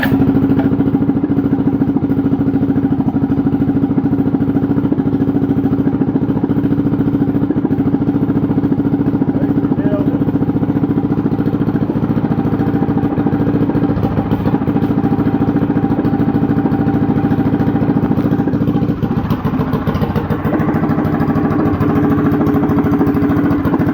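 A small mini bike engine idles steadily and close by, a continuous even putter with no talking over it.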